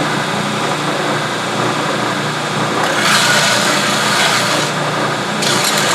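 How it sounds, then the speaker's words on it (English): Belt sander grinding the sharp edges off the bottom of a woodturning bowl scraper, a steady close abrasive hiss and motor drone that brightens and roughens as the steel meets the belt, with no speech. "I need to take off these very sharp edges, and I'm just going to hit on the bottom, and I'm just going to do that on a belt sander."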